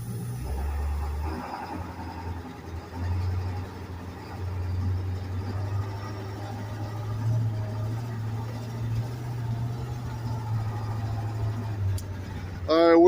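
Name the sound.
2001 International Amtrans school bus 7.3 diesel engine driving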